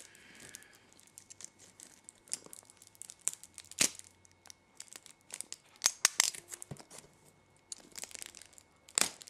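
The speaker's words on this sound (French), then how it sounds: "il est encore sous plastique, je vais le déballer tout de suite" Plastic shrink-wrap being torn and crinkled off a Marvel Avengers complete movie box set, close up, in irregular rustling bursts and sharp tearing crackles, with no talking.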